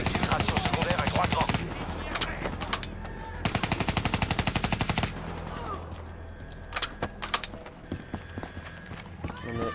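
Rapid automatic gunfire bursts in the Call of Duty Black Ops 3 campaign, loud rattling volleys separated by scattered single shots, with voices talking in between.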